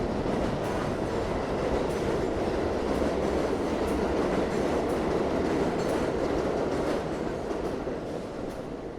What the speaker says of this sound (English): Above me is the J, M, and Z trains, the elevated trains.